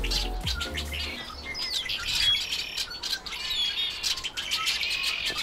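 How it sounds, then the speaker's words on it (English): Lively birdsong fills the air in Boulder, Colorado, with several birds chirping and squawking in overlapping bursts, fairly close, after a brief low rumble at the start. "I could hear this beautiful little bird song"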